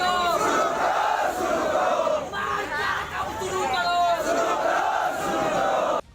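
A large crowd gathers as soldiers arrive with a flower-decked vehicle carrying a body, voices rising in loud, continuous patriotic chants and shouts that swell in waves throughout.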